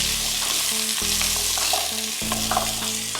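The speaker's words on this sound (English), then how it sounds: "I have 4 medium carrots, which I peeled and just chopped. We're gonna just saute that for a couple minutes." Four peeled, chopped medium carrots sauté in a pan, giving a steady close sizzle with intermittent scraping and stirring knocks from a utensil.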